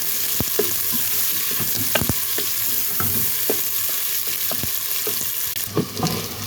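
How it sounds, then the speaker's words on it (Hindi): Two medium onions, finely chopped, frying in hot oil for aloo gosht, a loud steady sizzle with sharp stirring scrapes and taps throughout, no speech. "ऑयल गर्म हो जाए तो इसमें डाल देंगे 2 मीडियम साइज के प्याज, जिनको मैंने बारीक काट दिया है, ये डाल देंगे।"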